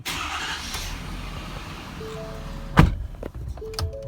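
A 2017-2019 Ford F-250 6.7 Power Stroke diesel pickup engine cranks and catches with a loud burst near the end, after steady low rumbling background noise, following a fuel filter change.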